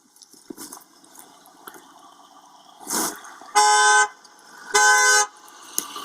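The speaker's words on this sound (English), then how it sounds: "drive past here honking the horn" A car horn sounds twice in long, loud blasts a second apart as a vehicle drives past, set against quiet outdoor background with a faint earlier toot.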